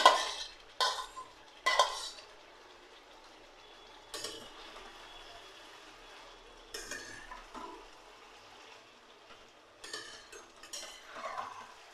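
Fried cauliflower and fried fish go into a pot for a jhol with quiet scattered clinks and scrapes of a utensil against cookware, separated by pauses, with no talking.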